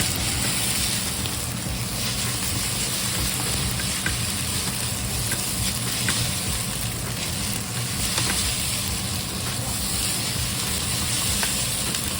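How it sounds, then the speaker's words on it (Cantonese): Steady, loud sizzling of pre-boiled Portuguese sausage frying in a pan, a continuous crackling hiss with small pops throughout. "而家煎翻香就咁解嘅啫"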